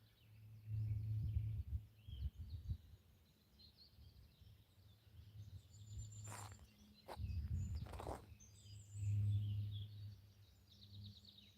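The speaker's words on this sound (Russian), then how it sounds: "Я сейчас замолчу, а вы послушайте пение птиц." Faint, distant birdsong drifts through a forest during a walk, with soft footsteps scuffing the ground in the foreground.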